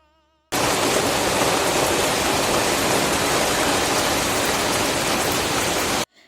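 Heavy rain pours down in a dense, steady roar that starts abruptly, holds loud and unbroken for several seconds, then cuts off.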